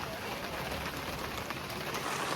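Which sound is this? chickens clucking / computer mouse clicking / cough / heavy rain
heavy rain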